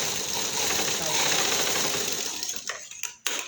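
Sewing machine stitching a salwar, a fast steady close whir of needle strokes that slows and stops near the end with a couple of short bursts.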